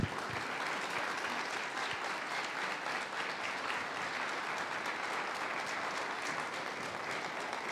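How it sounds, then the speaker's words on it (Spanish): Congregation applauding during a church service, sustained dense clapping that stays steady and fairly loud for several seconds without talk. "un aplauso bien grande al rey"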